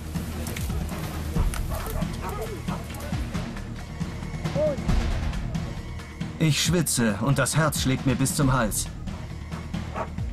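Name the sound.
dogs barking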